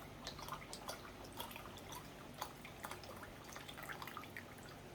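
Liquid poured into a crock pot of homemade gumbo, a soft, steady trickle and splashing with scattered drips over about five seconds, fairly faint and close, with no talk.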